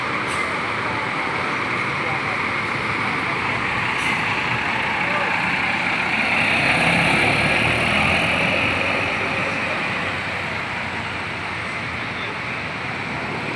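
A Hino RK8 express coach with Avante bodywork idles and runs at a busy bus terminal, giving a continuous loud engine drone mixed with surrounding traffic noise.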